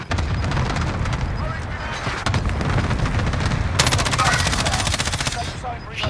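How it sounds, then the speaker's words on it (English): Cluster airstrike explosions pound continuously in Call of Duty: Modern Warfare, a loud, dense rattle of rapid blasts and booms with heavy low rumble, with speech heard over the barrage. "Cluster strike is active."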